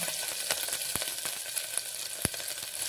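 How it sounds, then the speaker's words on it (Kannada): Cumin and mustard seeds crackle and sizzle in heated oil in a pan, a steady frying hiss punctuated by several sharp pops, close and alone without any talking. "ಇದು ಎಣ್ಣೆ ಇವಾಗ ಒಂದು ಸ್ವಲ್ಪ ಕಾಯ್ದೈತಿ. ಸ್ವಲ್ಪ ಜೀರಿಗೆ ಹಾಕ್ಕೊಂಡಿನಿ ರೀ, ಸ್ವಲ್ಪ ಸಾಸಿವೆ ಹಾಕ್ಕೊಂಡಿನಿ ರೀ"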